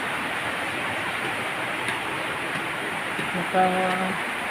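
Steady broadband hiss of heavy rain pouring down, with a brief voice near the end.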